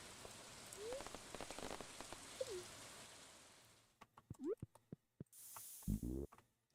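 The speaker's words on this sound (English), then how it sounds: "Well, it really rains outside." Rain patters softly on a surface, a faint steady wash broken by scattered clicks and short chirping sounds, with louder bursts near the end.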